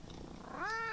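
A pet cat purrs softly as a low, steady rumble, then breaks into a brief rising meow-like tonal call near the end, close and quiet.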